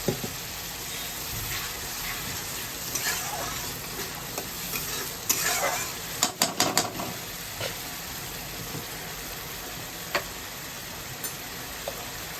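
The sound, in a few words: fish curry masala sizzling and stirred with added water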